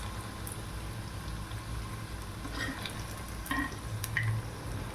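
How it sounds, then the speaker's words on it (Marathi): Veg Manchurian balls frying in hot oil, a steady, moderately loud sizzle and bubbling with faint stirring clicks, continuous throughout with no talking. "तुम्ही पाहू शकता छान प्रकारे फ्राय होत आहे"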